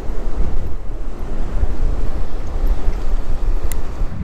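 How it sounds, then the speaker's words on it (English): Wind and waves at a fishing pier, a steady loud broadband rush of surf with buffeting wind noise on the microphone throughout, no voices. "The current, the wind, the waves."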